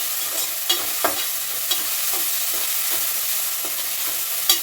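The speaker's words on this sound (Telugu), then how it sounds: "ఈ విధంగా దూరంగా వేయించుకుంటానండి" Beans frying in a pan, a loud close sizzle punctuated by repeated spatula scrapes and taps at an uneven rhythm, with no voices.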